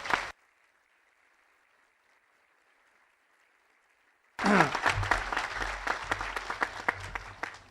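Audience at the Rappahannock Community College 2015 commencement applauds to welcome speaker Everett Jordan: after a long near-silent pause, loud, dense clapping breaks out and keeps going steadily to the end.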